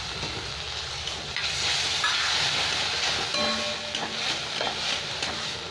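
Spice masala with tomato puree frying in oil in a pan for a Bengali-style soyabean chicken kofta curry, giving a steady, close sizzle and hiss with faint stirring scrapes throughout.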